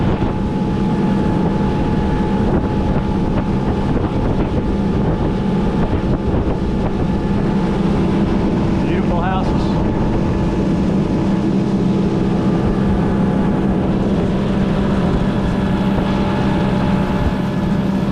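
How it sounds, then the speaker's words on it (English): A car carrier ferry, the Mays Point, passes out on the bay, a steady low engine drone and water rumble with wind buffeting the microphone throughout, with no talk. "Carrier ferry"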